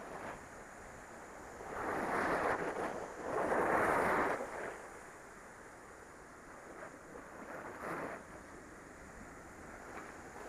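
Salty sea wind gusting at Bekal Fort on the coast, with surf behind it: broad rushing bursts swell loudly around two to four seconds, then ease into a steadier, softer blowing with smaller gusts near eight seconds, and no voices.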